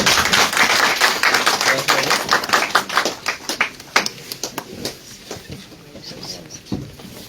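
Audience applause at a formal welcome gathering, a dense patter of many hands clapping that peaks early then thins into scattered claps near the end.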